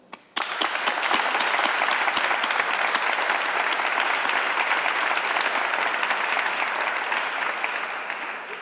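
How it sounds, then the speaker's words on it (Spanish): A hall audience breaks into sustained, dense applause for the members of Utrera's local council of brotherhoods during a Junio Eucarístico exaltation. After a brief quiet start it stays loud and even throughout. "Por eso ruego un aplauso a todos los miembros del Consejo Local de Hermandades y Cofradías de Utrera."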